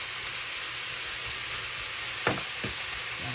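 Food fries in a hot pan and is stirred until browned, giving a steady close sizzle and hiss with a few soft scraping stirs near the end. No voices.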